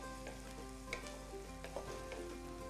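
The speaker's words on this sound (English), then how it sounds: "I'm gonna have a quick look so we can stir our onions" Soft sizzling of onions frying in a pan, with a few light scrapes and clicks as they are stirred, heard over quiet background music.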